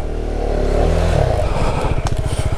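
Motorcycle engine, a Honda carrying a heavy rider, churns loudly through deep water in a steady low drone that breaks into a rapid pulsing chug near the end, with splashing clatter over it.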